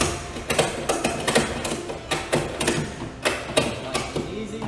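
A ratchet tie-down strap is cranked tight around cargo, giving a steady run of close, sharp clicks and thumps in a regular rhythm.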